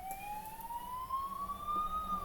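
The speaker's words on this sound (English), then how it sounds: "now the ambulance is also coming" Ambulance siren passing outside, heard as a single slowly rising wail at moderate distance over faint background rumble, with no speech.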